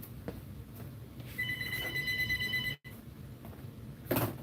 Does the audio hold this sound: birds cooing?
no